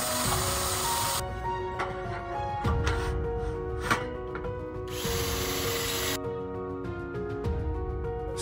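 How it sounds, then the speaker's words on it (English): A power drill driving tech screws through mounting rails into brackets for a solar panel tiled roof installation, with bursts of high-pitched motor whine broken by short pauses and metallic clicks, close and loud. "Then firmly fasten the mounting rail to the mounting brackets using the supplied tech screws."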